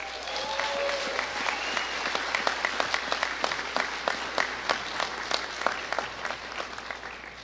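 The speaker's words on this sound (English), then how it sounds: "giving them a heartfelt round of applause" Audience at the 2022 Hidden Lake High School graduation applauds steadily, a dense wash of many hands clapping at moderate distance, with sharper individual claps standing out near the end.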